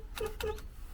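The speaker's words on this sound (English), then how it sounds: "The horn works." A Ford Capri's horn, the car long parked and found in a garden, gives two short steady blasts in quick succession, close by and loud.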